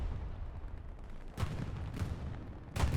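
Bombing run in the Hell Let Loose game on the Stalingrad map: a low rumbling battlefield bed broken by three heavy booming explosions, around the second half of the clip.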